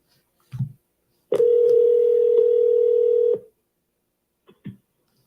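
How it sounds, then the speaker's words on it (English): A telephone tone sounds steadily for about two seconds during an attempt to reach a caller, framed by a few faint clicks and otherwise near silence. "Let's see if we can get Gary on the phone"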